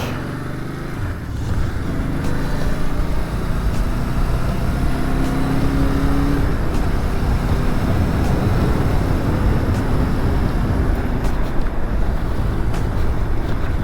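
An old motorcycle engine runs in a steady, continuous drone for the whole stretch, fairly loud, with wind buffeting the microphone.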